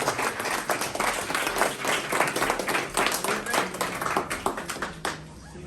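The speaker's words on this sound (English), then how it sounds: "one more applause for this brilliant young." An audience at an art exhibition opening in a Toronto pop-up gallery gives a round of applause. The clapping is moderately loud and uneven, with individual claps standing out, then thins and fades at the end.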